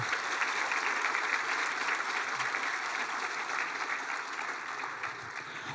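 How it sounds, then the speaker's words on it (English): Audience applause fills a middle and high school honor band concert hall, a dense, steady wash of many hands clapping that holds for several seconds and eases slightly toward the end, with no voices over it. "So wherever you are, Dr. Robinson, can we give them a round of applause, clap some feet?"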